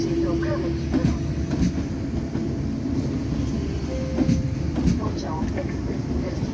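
An Impuls 2 SKM electric multiple unit rolls into Warszawa Zachodnia station, a steady loud rumble of wheels on rail with clicking joints and a faint squeal, while platform noise carries on around it.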